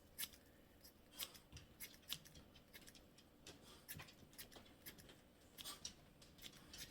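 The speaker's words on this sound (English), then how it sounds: "I think I'm just going to kind of cut some more in that area." Scissors snip repeatedly through synthetic wig hair, an Apricot Frost Motown Tress Ultra wig, giving quick, close, crisp cuts in an irregular rhythm with no talking.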